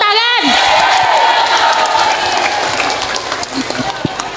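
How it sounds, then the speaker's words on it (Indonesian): An audience at an Islamic study gathering bursts into lively clapping and cheering, with a few whoops rising over the hands. A voice calls out at the start, and the applause then tapers off slightly toward the end. "tepuk tangan"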